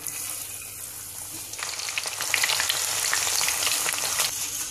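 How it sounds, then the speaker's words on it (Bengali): Chickpea dal frying in hot oil through a strainer, a steady crackling sizzle that grows louder and denser as the lentils go in, with no one talking. "আপনারা যদি বেশি করে ডাল ভেজে নিতে চান তাহলে এই তেলের মধ্যে বেশি করে ডাল দিয়ে ভেজে নিতে পারেন"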